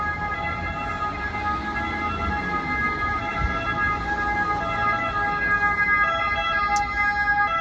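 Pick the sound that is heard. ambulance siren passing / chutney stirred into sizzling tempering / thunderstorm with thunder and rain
ambulance siren passing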